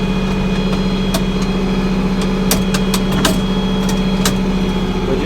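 A 1486 tractor engine runs loud and steady at a close idle, with faint clunks and knocks as it is shifted into gear for disking bean stubble.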